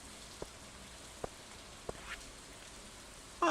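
Rain falling in the video game Stardew Valley, a faint even patter with a few isolated soft ticks, ending in a brief louder sound at the very end.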